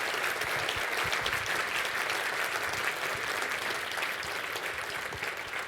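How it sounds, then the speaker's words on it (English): An audience at a DevOps conference in Montreal gives a round of applause after a talk, steady, dense clapping from a room full of people, moderately loud throughout. "Huge round of applause."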